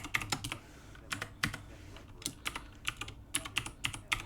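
Fingers type code on a computer keyboard in quick, uneven bursts of sharp clicks and taps, close and fairly quiet, with brief pauses between runs and no talking.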